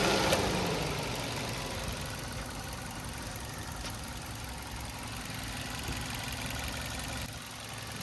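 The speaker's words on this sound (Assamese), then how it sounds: "দেখিছে কি সাইলেন্ট ইঞ্জিন একদম" A 2018 Maruti Swift top-model petrol car engine idling smoothly and quietly, a steady low hum with faint mechanical ticking, heard alone without voices.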